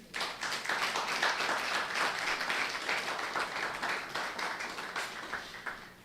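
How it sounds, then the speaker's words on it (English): Audience at an event on creative storytelling gives a round of applause, a full, continuous clatter of many hands that holds steady and gradually thins toward the end. "A round of applause now."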